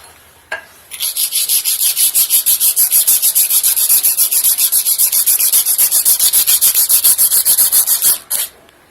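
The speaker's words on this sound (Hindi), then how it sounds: "अब हम लोहे को रगड़ कर देखेंगे।" A piece of iron rubbed by hand, a loud rhythmic scraping that repeats rapidly in an even back-and-forth stroke for about seven seconds, close and alone.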